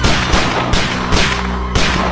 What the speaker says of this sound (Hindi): लगता है कोई गोली चला रहा है हम पे